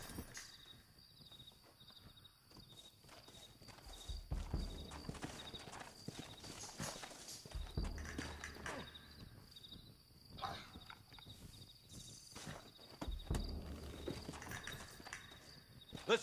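Horse hooves clip-clopping in the Red Dead Redemption video game, an uneven trot of hoof strikes against a quiet outdoor backdrop with chirping insects and a brief whinny, fairly faint and without speech.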